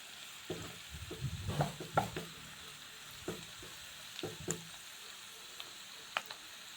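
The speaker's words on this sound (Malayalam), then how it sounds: "അതിലേക്ക് മഞ്ഞൾപ്പൊടി, ഒന്ന് നന്നായി മൂപ്പിച്ചെടുക്കാം." Turmeric powder sizzling in a pan while mushrooms fry, a faint, crackly sizzle with scattered stirring taps and scrapes, no voices.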